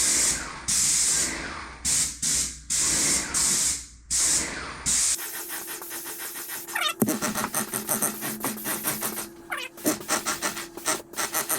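An aerosol spray can hisses in a series of short bursts, then shifts into a longer, rougher spraying with scratchy textures, loud and close with no talking.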